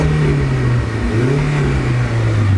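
A turbocharged Honda Integra DC5 engine, running warm near eighty degrees, revs up loud and close with a sustained droning tone that rises and dips slightly before settling, with no talking.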